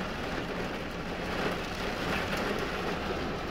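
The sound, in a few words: heavy rain pouring down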